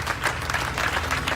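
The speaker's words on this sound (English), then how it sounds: "So many people applauding the firefighters there in Paris" A crowd in Paris applauds firefighters, with dense, continuous clapping filling the short moment at a moderate distance.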